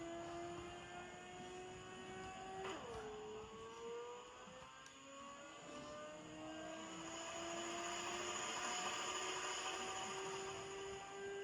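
Car engine in a racing game on a cheap SF300 handheld console, a thin buzzy whine that drops in pitch around a bend then climbs again as it revs, moderately loud and alone.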